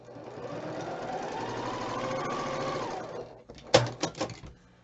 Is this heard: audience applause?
no